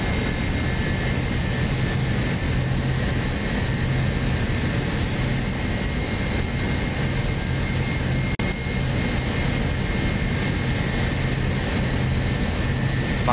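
Embraer ERJ-135 jet engines running steadily in the X-Plane flight simulator during takeoff with flaps set, a continuous loud broadband roar with high whine tones, unbroken and alone for the whole stretch.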